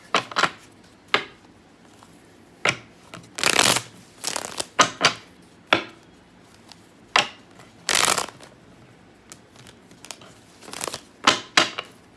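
Tarot cards being shuffled in a series of quick riffles and soft slaps, close by, with short pauses between bursts and no talking.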